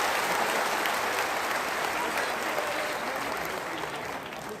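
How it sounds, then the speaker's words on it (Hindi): Sustained applause from a seated audience at a Samrat Ashok Jayanti speech event, dense and steady clapping that gradually thins toward the end. "आप सबके लिए जोरदार ताली होनी चाहिए"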